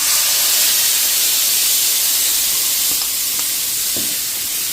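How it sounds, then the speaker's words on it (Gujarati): Dabeli masala with cumin and a pinch of asafoetida frying in hot oil over a low flame, a loud, continuous close hiss and sizzle with a few light stirring taps. "આને આપણે સ્લો ફ્લેમ ઉપર 2 મિનિટ સાંતળી લેશું, તેલ છૂટું પડે ને ત્યાં સુધી"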